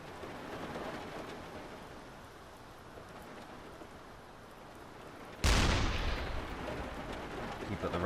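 A submarine deck gun fires once in the naval video game UBOAT, a sudden loud boom that decays into a long rumbling tail over steady rain and sea noise.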